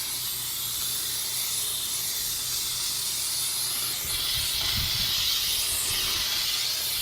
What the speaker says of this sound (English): I've pushed this and it's locked for continuous steam.